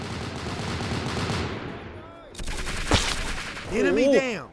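Gunfire in a Roblox Vietnam War shooter, a rapid rattle of shots under steady background noise, then a sharp close blast and a few more bursts, with a voice speaking over it.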